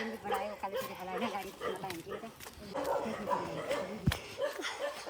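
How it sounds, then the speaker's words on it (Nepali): A dog barks and yips a few times nearby while people keep talking over it. "यहाँ चाहिँ कुकुरहरू देखिन्छ, अलिक जोगिनु पर्दो रहेछ"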